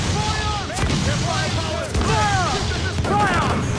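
Ship cannon fire in Assassin's Creed 4: Black Flag during a naval battle: repeated booming cannon blasts in quick succession, loud and close, with whistling projectiles overhead and crashing impacts layered together.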